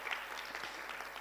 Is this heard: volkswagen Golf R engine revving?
no